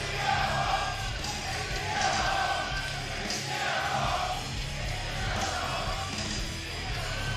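A home crowd in Atlanta, Georgia roars for wrestler Jonathan Gresham at a live wrestling event, a steady wash of cheering and yelling from a distant arena audience, moderately faint and continuous.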